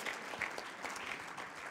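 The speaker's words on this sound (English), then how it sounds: "So maybe applause to all of you for making it here" A roomful of attendees at a Vienna deep learning meetup claps briefly, a soft, even patter of applause heard from a short distance.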